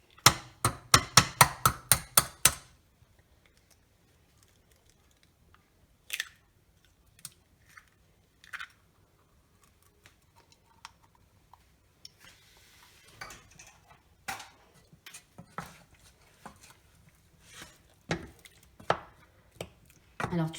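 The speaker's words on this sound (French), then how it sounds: "ça n'est pas facile du tout parce que la pâte est très compacte, donc ça prend du temps de fouetter énergiquement" A whisk beats stiff choux pastry dough for chouquettes by hand in a bowl, opening with a fast burst of about a dozen sharp rhythmic clacks, then sparse scattered taps and scrapes, close and quiet.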